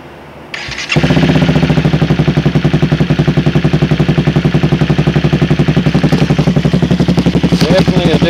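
Close and loud, a Honda CBR 250R motorcycle with a Danmoto conical muffler and no catalytic converter starts up with a brief crank, then settles into a steady, rapidly pulsing idle that continues throughout.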